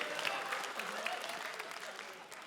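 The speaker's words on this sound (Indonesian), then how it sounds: "Tepuk tangan." Audience applause at a grand final competition show, a soft, distant wash of many hands clapping over a couple of seconds, with faint crowd murmur underneath.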